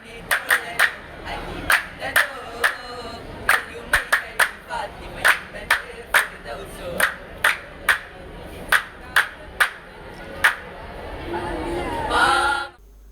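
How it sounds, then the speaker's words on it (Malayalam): At a team competition, sharp hand claps ring out in an uneven rhythmic sequence above a low murmur of crowd chatter, ending in a brief swell of noise. "ഓരോ ടീമിന്റെയും ഊഴമെടുത്തപ്പോൾ തന്നെ കൂട്ടുകാർ കൈയടിച്ചും ആരവമുയർത്തിയും"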